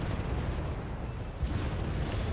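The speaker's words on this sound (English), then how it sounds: "Here comes the M270, firing at pretty much the position where I'd expected it to go." M270 rocket artillery firing in Wargame Red Dragon: a dense, rumbling roar of launches and blasts sustained across the whole moment, heavy in the low end with no clear breaks between shots.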